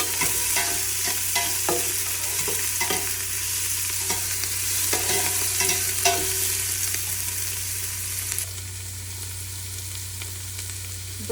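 Chopped small and large onions fry in a pan for a crab curry, giving a steady close sizzle broken by the scrape and clatter of stirring throughout.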